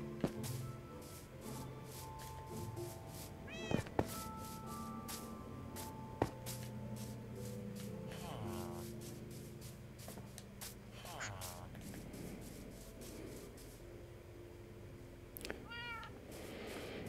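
A house cat meows several times in Minecraft gameplay, high wavering cries standing out over steady background game music and clicks, with a person talking now and then.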